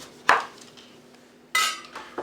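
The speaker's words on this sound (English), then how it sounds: "So I'm just going to cut up some lemon." Knife cutting through a lemon on a board in a home kitchen, two sharp chops about a second apart with faint clatter between, close and clear with no talking.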